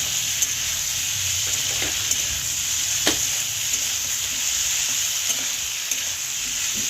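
Spices frying in a pan with onion, garlic and ginger paste for a masoor dal mixed-vegetable dish: a steady close sizzle with occasional scrapes and clicks of stirring, no voices.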